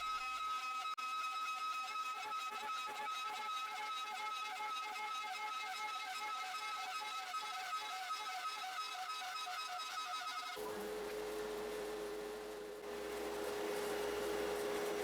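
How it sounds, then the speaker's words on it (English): A CNC router with a 1/4 inch bit carves a two-sided wooden clock design in a roughing pass, giving a loud continuous whine and hiss with a steady tonal hum that changes pitch partway through. "Now let's start our roughing pass with the 1/4 inch bit."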